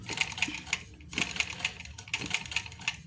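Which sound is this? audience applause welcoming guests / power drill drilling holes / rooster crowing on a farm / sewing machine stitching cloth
sewing machine stitching cloth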